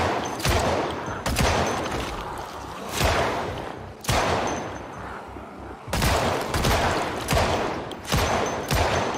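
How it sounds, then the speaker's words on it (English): An M9 pistol fires in the video game Project Zomboid, several loud, sharp shots spaced unevenly, each with a short echoing tail. "one thing I can do right now is pull out our M9"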